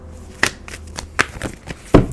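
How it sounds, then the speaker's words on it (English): Tarot cards shuffled by hand, with three sharp riffling bursts spaced roughly evenly and soft card handling between them, close and fairly quiet with no voices. "Let me shuffle a little bit more."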